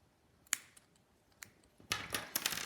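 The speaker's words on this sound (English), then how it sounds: "And then I'm going to cut the yarn" Scissors snip through crochet yarn in a few faint, sharp clicks and snaps, quiet and close, with a busier cluster of cuts toward the end.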